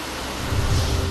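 Heavy rain falling on the town of Nandurbar, a dense, steady roar with no pauses and no voices.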